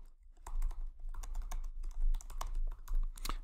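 An essay title is typed into Microsoft Word on a computer keyboard, the close keystrokes coming in a quick, uneven run over a low background hum.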